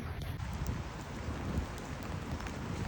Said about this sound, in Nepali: यस्तो पानी परिरहेको छ एकदम